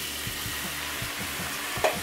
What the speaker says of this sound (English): We're sweating with shallots.